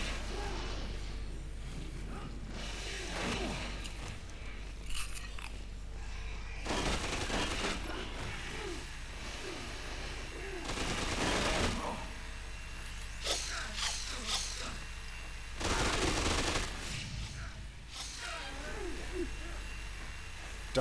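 Gunfire from armed enemies in the Dead Rising Case West video game, with repeated bursts of shots and booms over several seconds and scattered game sounds between them.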